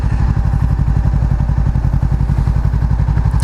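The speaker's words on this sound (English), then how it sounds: "None of them really give you a good idea of what the exhaust sounds like." A Honda CBR500R motorcycle exhaust idles close by with a loud, steady, rapid thumping pulse and a mechanical clatter throughout.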